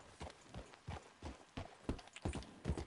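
Horse hooves clip-clop at a steady trot in Red Dead Redemption 2, about eight even, fairly close impacts over a quiet background with no talking.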